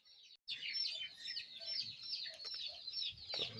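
Amrohi Aseel hen and rooster clucking and calling close by, a steady run of bright, overlapping chicken vocalizations after a brief silent gap at the start, with no talk.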